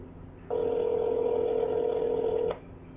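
A live cell phone call rings out as one steady electronic tone lasting about two seconds, clear and alone between brief quiet gaps.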